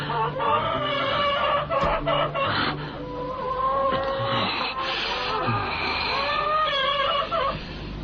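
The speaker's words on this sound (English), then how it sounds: "chicken just goes from muck, muck, muck, muck, muck to Oh." Chicken clucking repeatedly in close, loud bursts, with rubbing and scraping noises mixed in and a few sharper squawks.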